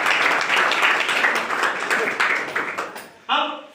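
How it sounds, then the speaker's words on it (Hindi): Audience applause at a Hindi-language business presentation, a steady wash of many hands clapping that fades, followed by a short burst near the end, heard under and alongside a speaking voice. "खुशी नहीं हुई तो फिर कौन बजाएगा ताली?"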